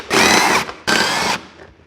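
Two loud bursts of a power tool whirring, each about half a second, as bolts are backed out of a Mammotion LUBA AWD 5000 robot mower, close up with no talk.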